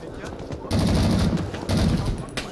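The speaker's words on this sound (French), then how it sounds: "c'est un mec qui est chez eux qui tire sur nous" Automatic gunfire in the Vietnam War shooter Rising Storm 2: Vietnam: two sustained loud bursts of rapid shots with a short gap between them, and game ambience around them.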